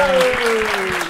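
Studio audience applause welcoming guest Paulo Vieira on a storytelling comedy show, a brief steady wash of clapping with a sustained tone and a voice running over it.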